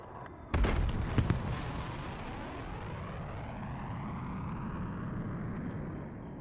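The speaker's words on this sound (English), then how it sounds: "Hostile flight bombardment incoming." Hostile aircraft bombardment in a video game: a sudden loud burst of blasts and cracks, then a long roaring rumble that trails off slowly, with no voices.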